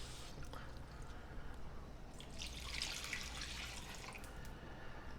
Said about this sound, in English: Then you add a couple of cups of water, a little bit more if you want more broth to save for later.